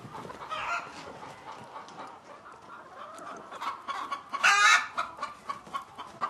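Hens cluck in a poultry house in Senegal, a steady, fairly faint chatter of overlapping clucks with one louder squawking burst near the end, and no talking.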